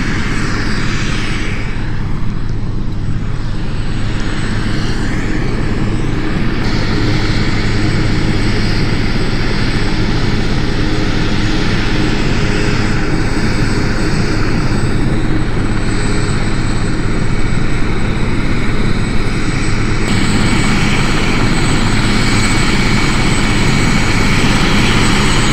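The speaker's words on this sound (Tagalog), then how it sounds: "Grabe ka ingay, guys! Hindi ako makalapit sa helicopter natin." A helicopter close by in a park roars loudly and continuously, its engine and rotor noise steady and overwhelming for the whole stretch.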